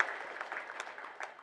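Audience applause at a memorial gathering celebrating a life, a steady, moderately quiet wash of clapping from a crowd with no voices standing out.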